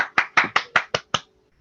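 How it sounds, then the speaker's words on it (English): Clapping after a physics talk by Monika Schleier-Smith: six or seven crisp, evenly spaced claps from a single pair of hands nearby, close and isolated, then silence. "Maybe I should have said we should clap."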